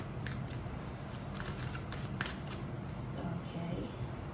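Tarot cards being handled and shuffled, a soft, faint run of slipping and riffling card sounds against a low room hum, with no talk over them.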